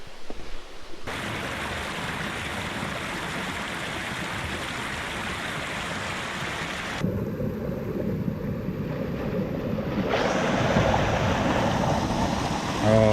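A shallow stream runs through a valley at Donnaeko campsite on Jeju Island, giving a steady, full rush of flowing water that shifts slightly in tone partway through, with no voices.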